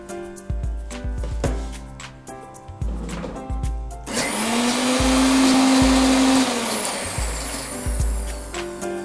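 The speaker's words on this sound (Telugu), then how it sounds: "సో దీన్ని మనం మిక్సీ చేద్దామండి" An electric mixer grinder whirs in loud bursts while grinding a cooled mixture for Italian lamb chops, short pulses at first, then one long steady high-pitched run before stopping and pulsing again.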